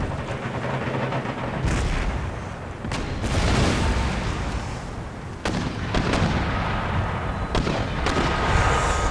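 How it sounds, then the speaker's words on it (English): Mortar batteries firing during a town siege of Madrid in Empire Total War, a steady barrage of booming blasts and cracking shots repeating every second or two over a rumbling battlefield din, with no talk. "the Spanish do have their own mortar batteries here in the town, which are causing us a little bit of grief"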